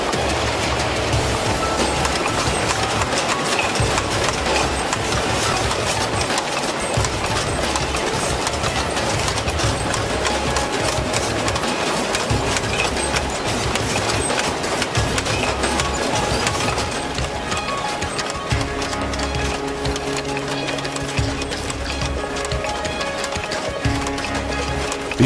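Factory machines punch cork shapes out of cork strips with a continuous, loud, rapid clattering and rhythmic thumping, dense with overlapping mechanical noise throughout.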